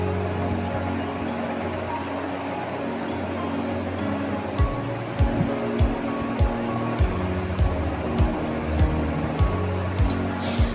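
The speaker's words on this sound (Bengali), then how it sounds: "এই যে ঝোলটা একেবারেই ফুটে উঠেছে।" Curry gravy with pointed gourd kofta boils in a covered pan: a soft hiss at first, then a regular series of low bubbling thumps about every half second, close and moderate in level.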